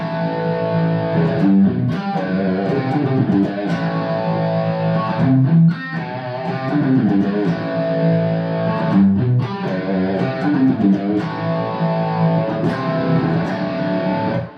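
A distorted electric guitar plays a busy single-note riff, loud and continuous with steady driving rhythm, no voices.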